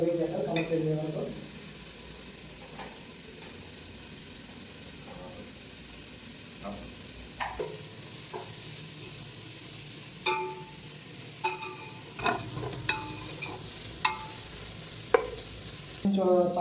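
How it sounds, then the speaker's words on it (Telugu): Onions deep-fry in a pan for chicken curry with a constant, close hissing sizzle, punctuated by scattered clacks and scrapes of stirring that grow busier toward the end. "ఇప్పుడు ఆనియన్స్ అనేది బాగా డీప్ ఫ్రై అయ్యాయి."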